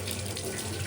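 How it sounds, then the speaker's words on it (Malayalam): Dried fish is washed under a running tap in cold water, a brief steady splashing stream close by. "തണുത്ത വെള്ളത്തിൽ ഈ മീൻ കഴുകണം കേട്ടോ"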